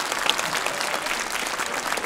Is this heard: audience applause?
yes